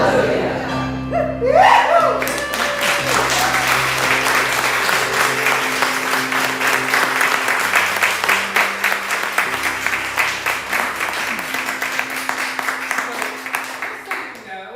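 Congregation clapping and applause at a Sunday church service, loud sustained applause that settles into a rhythmic beat and slowly fades, with a steady musical drone underneath and voices in the background.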